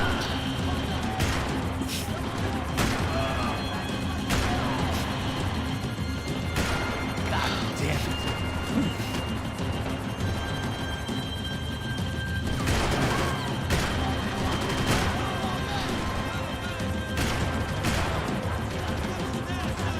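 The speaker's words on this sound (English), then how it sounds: "I keep shooting" Rapid video game gunfire with sharp cracks and crashes repeating throughout, loud and busy, with voices talking over the action.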